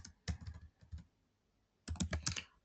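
Typing on a computer keyboard, with two short flurries of close, soft key clicks separated by a brief pause.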